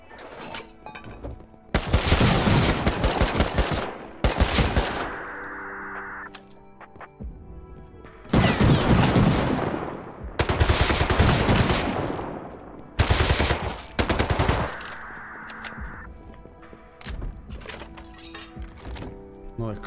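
Automatic turret gunfire in the survival game Rust, loud sustained bursts of rapid fire separated by brief pauses, with metallic clanks and a mechanical whir between volleys.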